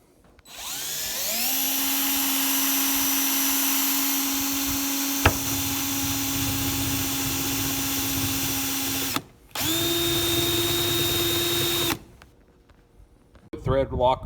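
A power drill bores a hole through a PVC pipe end cap for a lawn striping kit, with a steady loud whine spinning up and running for about eight seconds, a brief stop, then a second shorter run before handling noises.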